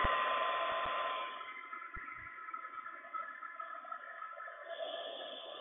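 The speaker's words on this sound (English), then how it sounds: "I'm going to try this with this broken hairdryer first" A broken hair dryer blows hot air to heat and soften a mask, a steady close whir with a few low thumps early on, then a slightly quieter, even airflow throughout.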